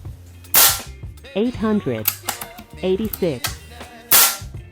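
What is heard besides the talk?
FX Wildcat Compact .22 caliber air rifle shots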